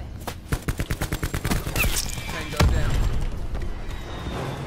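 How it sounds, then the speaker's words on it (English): Rapid bursts of gunfire from Call of Duty Black Ops 4 crackle close and loud, a quick rhythmic string of shots giving way to heavier blasts and sustained firing across the fight. "I don't know where I'm getting shot at from."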